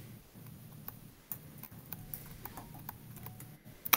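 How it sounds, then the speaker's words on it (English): Horses' hooves clip-clop faintly in an even, quiet rhythm as riders carry someone off into the darkness, the beats staying soft and distant throughout. "lifted Astrith onto Torbjorn's horse. The two then rode away into the darkness"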